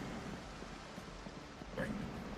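Steady rain falling in the Project Zomboid video game, a soft continuous hiss of fairly quiet rainfall with no break and no voices over it.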